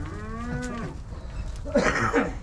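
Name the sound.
cattle mooing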